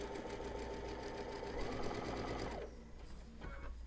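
A sewing machine stitches the seam of a giant Christmas stocking, a steady fast whirring rattle running close and loud, then slowing and stopping before a brief restart.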